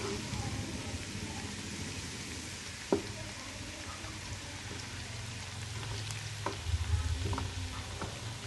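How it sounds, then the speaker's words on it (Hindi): Chicken sizzles and fries in a pan while biryani cooks over the flame, giving a soft, steady crackle with a few faint clinks, fairly quiet throughout. "अब ये चिकन जो था वो मैं इसमें डालूँगी।"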